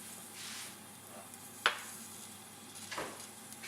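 Half an onion drops into gradually heated oil and sizzles softly, with one sharp clatter and a later stir against the pan over the steady low hiss.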